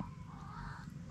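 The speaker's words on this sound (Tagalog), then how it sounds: "Humuhuni ang tikling mga kasinag." A tikling (barred rail) calls in harsh, crow-like caws, repeating steadily for a moment over a constant background hum.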